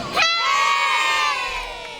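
A group of young children at an under-10 youth football trophy ceremony let out one loud, bright cheer together, a sustained shout that rises sharply and then holds for about two seconds before tapering.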